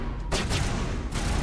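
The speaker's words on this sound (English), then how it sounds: "This is pistol." Pistol gunfire in the video game Mass Effect, Insanity difficulty: a dense, loud barrage of shots packed together with a brief lull in the middle, booming continuously across the whole moment without voices.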